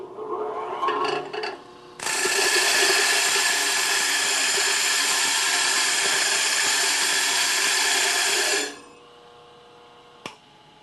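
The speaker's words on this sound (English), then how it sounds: "with just a few seconds work with the stone dresser, cleaned up the stone and removed all the aluminum that was embedded in the surface of the stone" A stone dresser grinds against a spinning bench grinding wheel loaded with embedded aluminum, giving a loud, steady abrasive rasp for about six seconds before it stops; faint tool and motor noise comes before and after.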